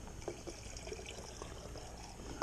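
Bentonite fining mixture poured into a batch of pear and peach wine, a soft, quiet trickling and splashing of liquid, faint and close, with no talking.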